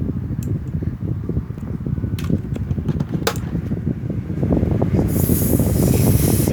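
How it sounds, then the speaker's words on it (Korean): An electric fan in the Roblox game Adopt Me gives off a steady whirring hiss with fine rapid ticking, growing slightly louder toward the end, heard alone. "이런 소리는 그 선풍기 소리예요"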